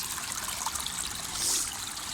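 Water runs in a steady trickle over a stone thought to be a fossil as it is rinsed outdoors, a continuous close splashing wash with a brief louder surge midway, no talking.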